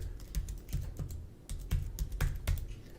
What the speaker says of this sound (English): So I typed in her email address.